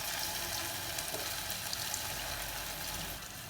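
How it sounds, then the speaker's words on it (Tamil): Lentil cooking water being poured into a pot of spicy tomato soup, giving a steady, close splashing and trickling wash that keeps going without pause and eases off slightly at the end. "பருப்பு வேக வச்ச தண்ணி இதில் சேர்த்துக்க போகிறோம்"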